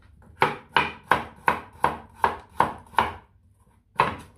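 A carrot for purple vegetable soup is chopped on a cutting board: nine crisp, evenly spaced knife strokes, then a short pause and one final chop, close and clear with no talking.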